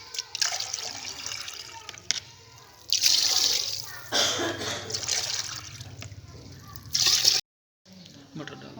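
Water pours steadily into a cooking pot for matar pulao in a village kitchen, a close splashing rush broken into several separate pours with brief pauses and a short silent gap near the end.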